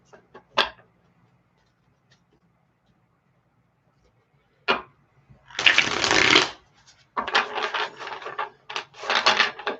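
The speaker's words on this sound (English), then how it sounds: "Shuffle some cards." Tarot cards riffle-shuffled in several bursts: a quick snap or two, then a longer crisp riffle and a few more rapid shuffles, close and clear.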